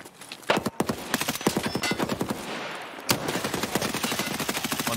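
Gunfire in the Escape from Tarkov shooter game, a rapid series of sharp shots in bursts, loud and close, with a brief pause near the middle before firing resumes.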